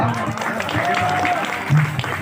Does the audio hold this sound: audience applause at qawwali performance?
yes